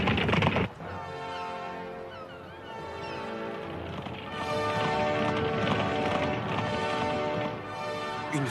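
Horses carrying riders gallop in a steady drumming clatter of hooves in an animated series, close and fairly loud, building slightly as the riders move off.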